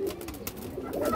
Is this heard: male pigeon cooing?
yes